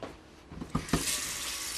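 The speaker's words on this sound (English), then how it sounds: "So I'm going to get the 1 quart of water going right now." Tap water runs into a pan to fill it for boiling, a steady close splashing rush starting after a few clunks and continuing to the end.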